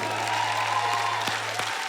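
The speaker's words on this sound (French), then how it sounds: "applaudissez-vous!" Audience at a comedy song show applauds steadily, a dense wash of clapping with a low steady hum underneath and a few sharper claps standing out near the end.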